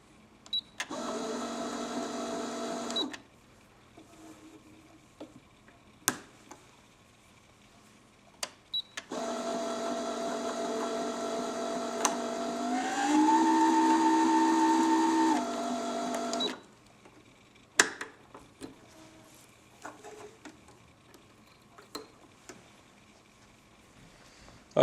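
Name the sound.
Brother NV10 sewing machine winding a bobbin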